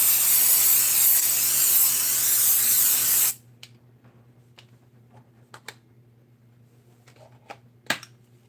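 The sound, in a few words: spraying with a spray can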